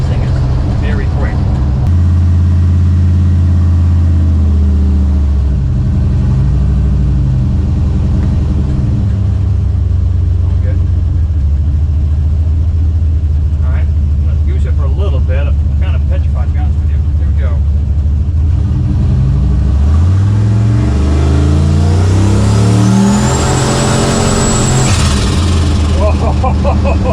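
A turbocharged LS-swapped Chevrolet C10 squarebody truck accelerates hard on a back road, the engine droning and climbing in pitch as it pulls through the gears. Turbo whistle rises near the end, and someone talks over the engine.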